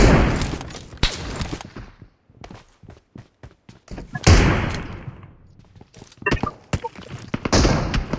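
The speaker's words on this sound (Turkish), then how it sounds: "Adam hala Mermi sıkıyor ya" Gunfire in PUBG Mobile: scattered sharp single shots and short bursts at varying distances, with quieter gaps and footstep-like thuds between them, and players talking over it.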